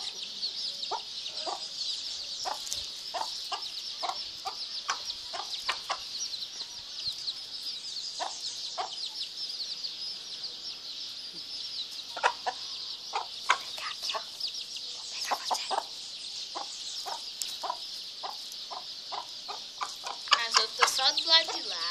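A hen clucks repeatedly in short, close, fairly loud bursts while pecking at ants, with a steady background hum and a few louder squawks near the end.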